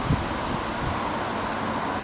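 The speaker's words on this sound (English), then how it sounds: "one group of plants that don't mind the windy conditions like we're having today" Steady wind blowing through a sheltered exotic garden with palm trees in Yorkshire on a windy day, a constant broad rush with a gust-like thump at the start and no voices.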